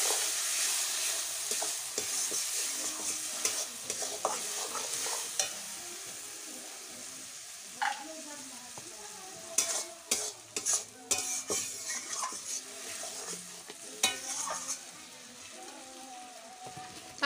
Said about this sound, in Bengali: এখন ভালো করে ডালগুলোর সঙ্গে ঝিঙ্গাগুলোকে একটু মিক্স করব